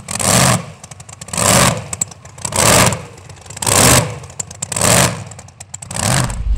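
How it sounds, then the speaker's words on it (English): Tractor pull machine with a blown 540 cubic inch Hemi TFX engine revving hard in five big surging bursts, each swelling and dropping back to a rough, clattering idle, loud and close with no talk. "Glenn, it's a 540 cubic inch Hemi TFX"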